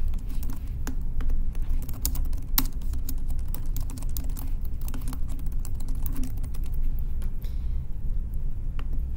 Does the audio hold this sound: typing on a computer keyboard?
yes